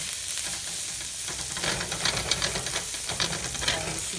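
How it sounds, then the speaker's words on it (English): Onions stir-fry in a hot pan for Singapore-style rice vermicelli, a loud, close, crackling sizzle that grows busier midway, with scraping spatula strokes through it and no talking. "We want it a little char but not burnt. And just stir fry."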